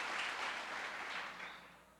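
Church congregation applauding during a worship service, a brief soft round of massed clapping that swells and fades away.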